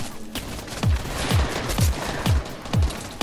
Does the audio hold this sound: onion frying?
no